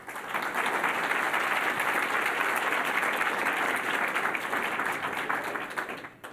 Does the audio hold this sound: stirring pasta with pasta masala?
no